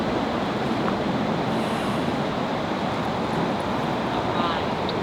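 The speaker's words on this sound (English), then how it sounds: "it sounds like water running, like river rapids now" Steady rushing water like river rapids beneath a bridge at night, a continuous broadband roar holding even and loud throughout.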